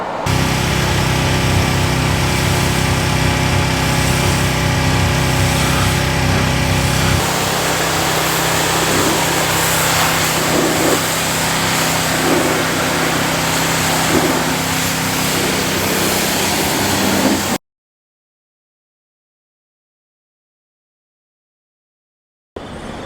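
A Kubota SSV65 skid steer engine runs steadily and loudly with a strong low drone, its tone shifting partway through, then cuts to silence near the end.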